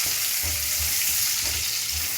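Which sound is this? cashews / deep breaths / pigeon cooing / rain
cashews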